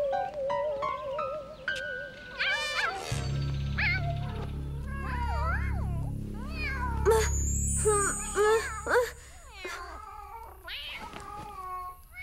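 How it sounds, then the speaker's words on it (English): Cartoon cats fight with loud, drawn-out yowls, hisses and caterwauling meows in rapid succession over a low rumbling background. "Not another cat fight."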